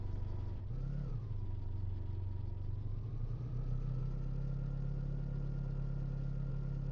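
A car engine idling in the ranch video game Southwest Ranch Simulator, a steady low droning hum with a brief rev near the start that settles back to an even, continuous idle.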